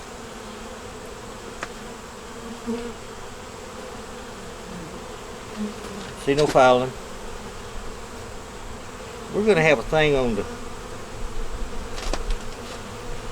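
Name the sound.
honey bees buzzing at an open hive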